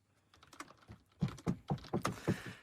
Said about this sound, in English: Sammy's still typing